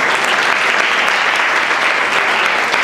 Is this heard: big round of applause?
yes